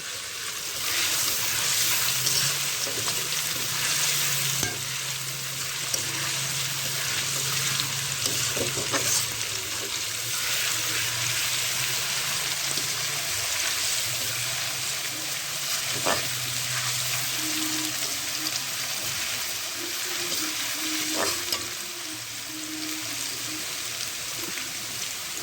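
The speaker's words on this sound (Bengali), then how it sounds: "দেখেন পেঁয়াজ রসুন কষানো হয়ে গেছে, দেখছেন লাল লাল করে ভাজা হয়ে গেছে।" Chopped onion and garlic fry in a pan for a Bengali chicken kosha, a steady sizzle throughout with occasional scraping stirs and a few clinks, fairly close and without speech.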